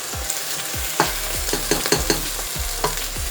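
Onions caramelize in a hot pan for French onion soup, sizzling steadily up close while a spoon or spatula knocks and scrapes in an irregular rhythm, with no voices.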